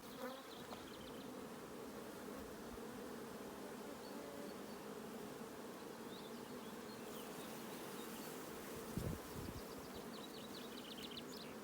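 Drone honeybees buzz around an apiary, a steady, dense droning hum from many bees at once, faint and continuous throughout with no talk.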